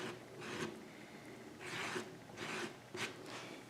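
A clay rib smooths the joints of a clay slab pitcher, making soft, close rasping strokes in a slow, repeated rhythm of about five passes.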